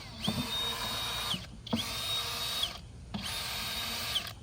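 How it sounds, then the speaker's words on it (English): A power drill with a step bit bores drainage holes through a plant pot, three separate steady whirring bursts with brief pauses between them, close and alone. "I just get this step bit, and I'll just go ahead and drill through here and get a few holes"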